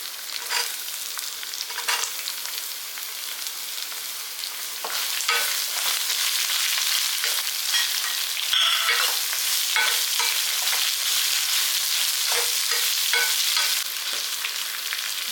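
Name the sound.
frying chillies and bottle gourd in a pan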